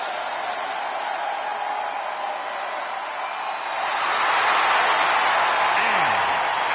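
An arena crowd in WWE 2K25 roars in a steady, dense wash of cheering and applause that swells louder partway through, with a commentator's voice over it.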